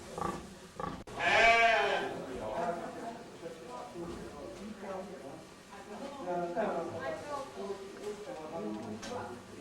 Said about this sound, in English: black sheep here is a rare kind of sheep